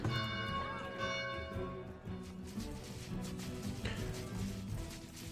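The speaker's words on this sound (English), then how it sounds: "Let's ring the bell." In the medieval village-building game Farthest Frontier, a large bell rings with a sustained metallic tone, struck repeatedly over a rumbling background.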